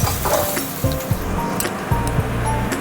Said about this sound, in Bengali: এই যে আলুটা আর এঁচোড়টা আরেকবার ভেজে নেব